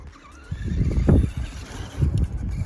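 Summit RC truck driving a home-built off-road course, its electric motor whining and tires scrabbling in bursts that rise and fall close by, with no talking.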